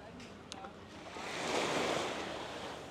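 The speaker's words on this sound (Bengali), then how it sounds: "আর এখানে আপনার প্রচুর ঢেউ আছে, আর এগুলো সব বালু" Sea waves washing onto a sandy beach, a soft surge building and spreading in a broad hiss, with wind buffeting the microphone and faint distant voices.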